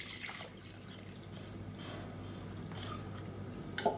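Water poured into a pan of tamarind gravy in a home kitchen, a soft continuous trickling and splashing heard faintly, with a brief clatter at the end.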